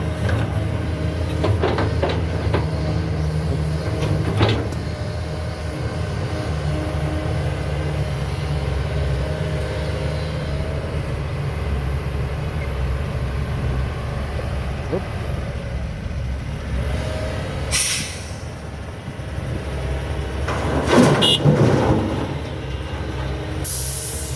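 A Kobelco SK200-10 excavator works at full throttle drilling into very hard rock, a steady low mechanical rumble with occasional sharp metallic knocks and bursts of grinding, fairly close and continuous throughout.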